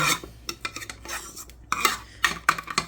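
A spoon stirring Annie's shells and cheese in a pot, with rapid close metallic scraping and clanking against the sides, busy and irregular, with brief pauses between bursts.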